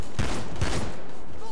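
Gunfire in the Payday 2 heist game, a dense burst of rapid shots with a couple of sharp louder reports, loud and close over a constant noisy game background.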